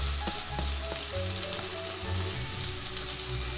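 Okra sizzles steadily in a hot pan with onions and crushed chili, a continuous close crackling fry over a low hum, with no voices.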